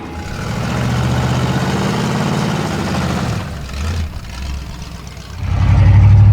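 A 1937 Pontiac engine running while driving, a loud low rumble that holds steady, dips and stutters as gears change, then rises into a stronger, heavier drone.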